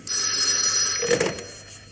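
An old telephone bell rings in one sustained bright metallic trill lasting about a second, then fades out, close by with no talk.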